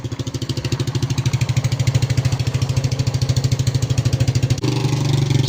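A motorcycle engine runs just after starting outdoors on a calm day, a close, loud, rapid pulsing putter that shifts to a smoother, steadier idle near the end.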